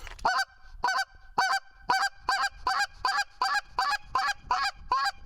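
A rapid series of about eleven sharp, nasal quick double clucks from a mallard duck call, evenly spaced and close, with no talking.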